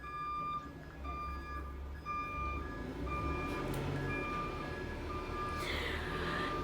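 A garbage truck's faint, distant reversing beeps repeat at a steady pace on garbage day, with a low rumble of engine noise and street hum underneath.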